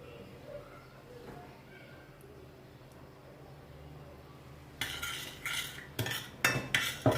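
Metal utensils clink and scrape against a bowl in quick bursts as taco fillings with chicken are mixed with olive oil, the clatter starting abruptly after a quiet stretch.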